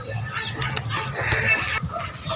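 Chickens cluck in a hot coop on a small farm, with several short calls close by and a voice talking over them.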